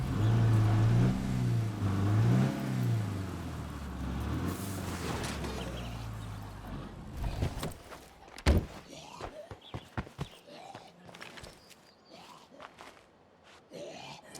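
A car engine in the video game State of Decay 2 hums steadily and fades, followed by scattered thuds and clunks from footsteps and a door, with a low, muffled game-like ambience.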